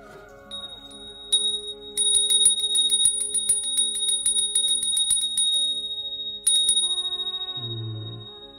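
A small bell rings in a rapid steady shimmer for several seconds, stops, then rings again briefly, clear and close against a faint background tone.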